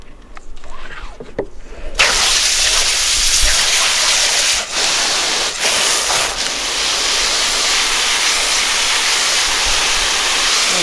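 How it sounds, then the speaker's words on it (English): Loud, steady running water pours from a tap as a tie-dyed t-shirt in golden yellow, deep orange and fire red is rinsed, a continuous close splashing rush that starts abruptly and flows without pause. "We're here to rinse out another t-shirt."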